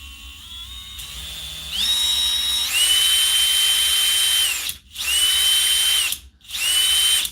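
A spindle power tool test-runs with a high, steady electric whine that steps up in pitch as it speeds up, then cuts out briefly twice and restarts, close and alone.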